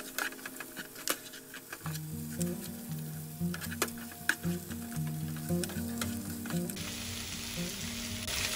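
Mutton hits a pan of caramelized onion and sizzles softly and steadily, with a few scraping stirs, under louder background music.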